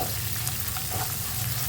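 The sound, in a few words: onion and curry leaves frying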